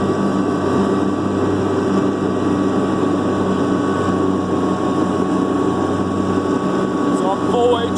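Kubota B2650 tractor with LP FDR2572 mid-mount mower running at full throttle in full HST, a loud constant engine drone with steady whining tones, close and unbroken throughout.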